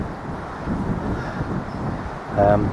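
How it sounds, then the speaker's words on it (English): Wind blowing across an outdoor field, buffeting the microphone in steady low rumbling gusts that rise to a louder burst near the end; no speech is heard. "it has been quite windy today"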